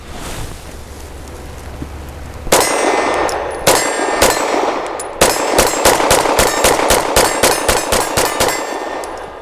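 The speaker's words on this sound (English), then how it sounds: "going to see how quickly I can unload this on that steel and still give hits" A Walther PDP 4-inch Compact pistol fired rapidly at steel targets outdoors: after quieter gaps, loud sharp shots ring out, building to a quick evenly spaced string of about a dozen reports, each with a metallic clang.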